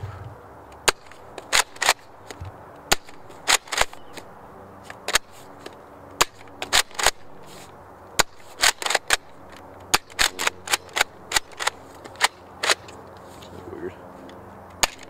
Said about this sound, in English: Let's see the range of this gun.